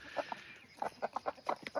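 A chicken clucks in a quick series of short, soft clucks from nearby on a backyard breeding day, with a brief pause near the start.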